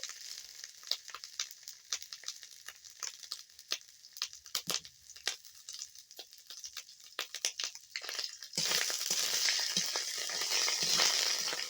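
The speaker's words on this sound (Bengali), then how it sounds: "কড়াতে তেল দিয়েছি, তেলটা গরম হয়ে গেছে, এতে আমি আদা দিয়ে দেব।" Ginger hits hot oil in a wok, where scattered crackles and rustles give way to a sudden, loud, sustained sizzle that carries on to the end, with no talk.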